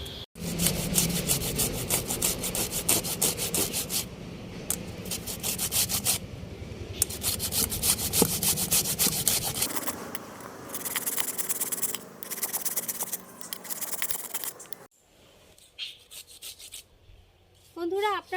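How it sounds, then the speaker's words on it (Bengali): Peeled raw mango is rubbed through a strainer with close, brisk scraping strokes for about ten seconds, fading to softer handling noises and a short tonal sound at the end. "এবার একটা স্ট্রেনার দিয়ে একটু ঘষে নিচ্ছি"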